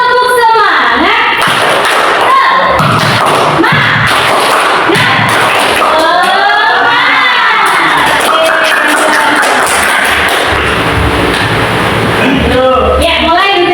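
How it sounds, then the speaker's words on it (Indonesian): A classroom of children performs a rhythmic spirit clap chant, loud and close, with sharp claps mixed with shouted chanting and excited voices throughout. "Tepuk semangat."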